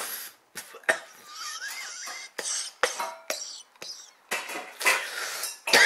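A man coughs repeatedly in sharp, close bursts after smoking a cigarette, with short gaps of breathing and faint background clatter between the fits.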